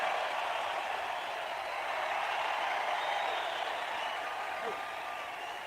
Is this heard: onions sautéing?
no